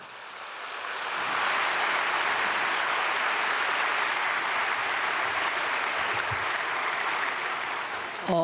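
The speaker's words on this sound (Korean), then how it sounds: "여러분 따뜻한 가슴의 박수를 보내주시면 고맙겠습니다" Congregation at a Korean church thanksgiving service applauds for the provincial governor before his address, a broad steady clapping that swells in after a second and holds evenly, moderately distant.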